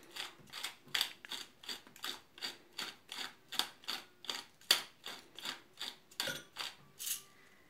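Black pepper being ground in a hand grinder, close and clear: a steady run of about sixteen rhythmic ratcheting crunches with brief pauses between turns, ending in a short final rattle.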